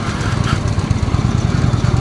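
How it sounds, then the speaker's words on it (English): A 2016 Indian Springfield motorcycle engine braking: a steady, close, rough low engine rumble with a fast pulsing throb, continuous for a couple of seconds with no voices. "I can stop this thing with the engine brake alone."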